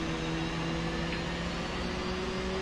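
F/A-18C jet engine spooling toward idle during a cold startup in DCS World, a steady whining hum with a faint rising tone over broad airy noise, sustained and even.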